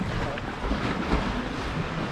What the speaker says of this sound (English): The waves get real loud in here.